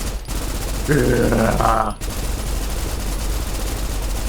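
Rapid automatic gunfire from a machine gun in the Snowbreak shooter game, a dense burst lasting about a second over steady game music and ambience.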